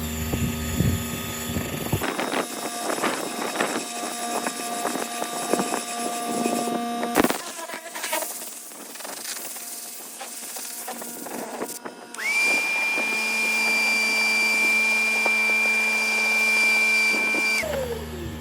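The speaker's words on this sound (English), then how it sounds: "I will drill brush." A drill fitted with a scrub brush works over a rug, giving a steady whining motor drone with rough scrubbing texture, briefly cut off midway before resuming and ending with a sustained higher-pitched run.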